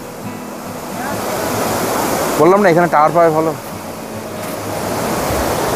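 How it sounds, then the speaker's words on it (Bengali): Rushing water from Lodh Falls in Jharkhand roars as a constant broad wash of noise, with someone speaking briefly over it midway. "তো ফাইনালি আমরা বন্ধুরা লোদ ওয়াটারফলসে এইবার বন্ধুরা এসছি।"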